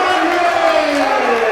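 High school basketball crowd at a JCHS boys game against Middleboro High School (2019) cheering loudly and steadily after a made foul shot, a sustained roar with a commentator speaking over it.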